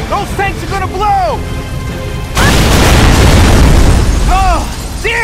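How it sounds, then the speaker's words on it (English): Tanks exploding in the Gears of War 3 video game, a sudden heavy boom followed by a sustained roaring crackle of fire and debris, with harmonic shouting voices before and after. "Those tanks are gonna blow!"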